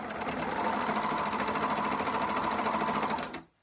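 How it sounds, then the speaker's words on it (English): Serger sewing machine chaining off past a fabric edge, a rapid, steady mechanical whir with a fast stitching rhythm for about three seconds before stopping abruptly. "I normally just catch the very edge here at the knife blade of the serger."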